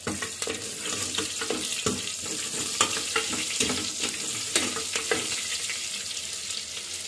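Onion sizzling in about three spoons of hot oil for a mutton curry, with a steady crackling fry broken by repeated clinks and scrapes of a spoon stirring the pan, close and moderately loud.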